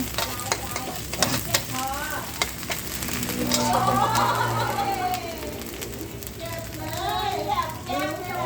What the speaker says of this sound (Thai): ผัดให้หอมระวังฉุนนะ